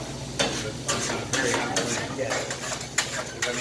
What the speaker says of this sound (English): that thing's boiling